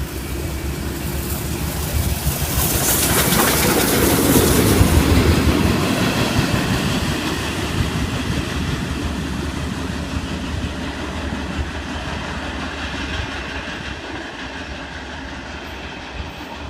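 Steam locomotive 5917 running alone on rails, a steady rumble that swells as it passes close by, then fades slightly into a continuous rolling train noise with no voices.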